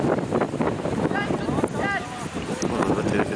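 Loud rumbling wind buffets the microphone throughout at a ski slope in Kartepe, with a voice speaking faintly beneath it.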